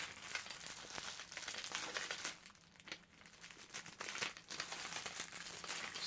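Crinkly plastic wrapping around silver bullion is handled and worked open, a close, steady stream of crumpling and rustling with a brief quieter pause midway.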